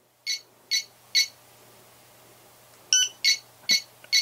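A tBeacon BuzzyBo drone locator beacon stepping through its settings menu, sounding short shrill electronic chirps, three evenly spaced, a pause, then a quicker run of four more, loud and close in a quiet room.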